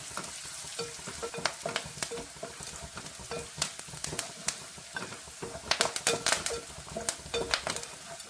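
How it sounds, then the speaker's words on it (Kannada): Curry leaves sizzle as they go into onions frying in a pan for South Indian green peas upma, a close, crackling spatter with repeated sharp pops and some stirring, and no talk. "ಈಗ ಕರಿಬೇವನ್ನು ಹಾಕ್ತಾ ಇದ್ದೀನಿ"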